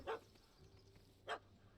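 A dog in the video game The Witcher 3: Wild Hunt barks twice, two sharp, separate yaps with a quiet pause between them and no speech.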